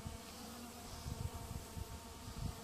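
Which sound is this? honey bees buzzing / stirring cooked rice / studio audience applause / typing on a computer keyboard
honey bees buzzing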